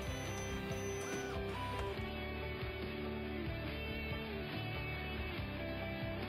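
A printer in the Toy Tinker Simulator video game runs continuously while printing stickers for a bike, its whirring blended with steady background game music throughout.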